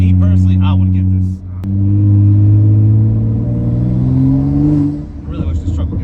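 A 2015 BMW 335i with full bolt-ons accelerates hard, its engine note climbing steadily in pitch across a long pull, loud and close, with a brief dip and shift before revving up again while people talk over it.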